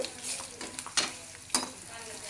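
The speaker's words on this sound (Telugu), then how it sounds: "ఇలాగా చక్కగా ఇలా బాగా వేయించాలండి పోపు" Soft, steady sizzling of tempering spices frying in hot oil for pickle, with a few sharp scrapes and clinks of a spoon stirring in the pan.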